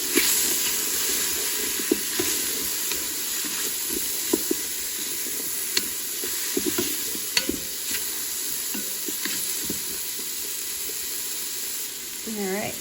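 Onions sautéing in a Ninja Foodi Grill pot alongside stuffed pork tenderloin prep, a steady hissing sizzle with scattered clicks and scrapes of stirring, fairly close and continuous.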